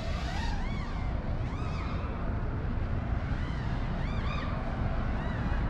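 FPV freestyle drone with fast, overpowered motors flying outdoors, a continuous high buzzing whine with rising and falling pitch sweeps as the throttle is blipped, steady and fairly close.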